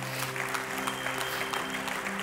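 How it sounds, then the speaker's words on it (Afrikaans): A church congregation claps together in dense, steady applause that holds at an even level throughout, with sustained musical tones humming underneath. "kom ons gee vir nog 'n lekker hande klap"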